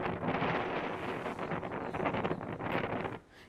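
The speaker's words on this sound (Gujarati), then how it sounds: "જે રીતે પવન ફૂંકાયો હતો" Strong wind from a dust storm in Kheda roaring and buffeting against the microphone in continuous gusts, then dropping off sharply near the end.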